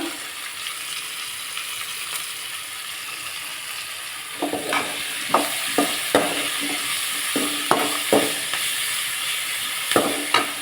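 Vegetables for Tamil kara kuzhambu, a taro root curry, sauté in a pan with a soft steady sizzle, broken by a series of sharp stirring scrapes and clicks in the second half.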